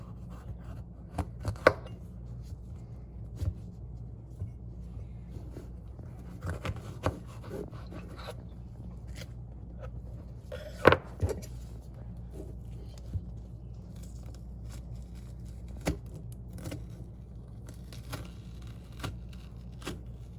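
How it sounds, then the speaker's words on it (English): A paring knife cuts into a jalapeno on a board in a quiet kitchen, giving scattered soft taps and sharper clicks spread irregularly over a long stretch. "a knife that I will use to just chop this up"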